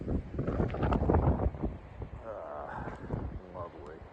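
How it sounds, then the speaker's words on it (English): Blizzard wind drives snow around an outdoor spot in Middleboro, Massachusetts, a steady blustery roar buffeting the microphone while a person talks close by throughout. "Oh my God, snow is blowing from everywhere."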